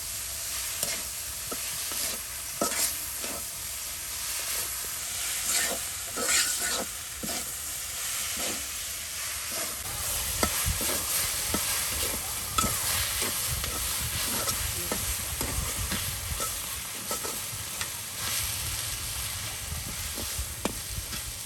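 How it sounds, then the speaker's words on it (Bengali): Potatoes being stir-fried dry in a pan without oil make a continuous sizzle and hiss, punctuated by regular scraping and tapping strokes of a spatula that grow busier partway through; no one talks. "একদম অল্প সময়ের মধ্যে দেখুন আলুগুলো একদম ভাজা ভাজা হয়ে গেল"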